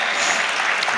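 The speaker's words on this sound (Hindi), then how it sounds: "एक बार ज़ोरदार तालियां इस पूरे ख़ानदान के लिए।" Loud, dense applause from a poetry gathering's audience at a mushaira, honouring a family, a steady wash of clapping close and continuous for a brief moment.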